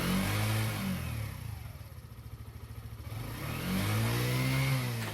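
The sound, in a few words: motorcycle engine revving on acceleration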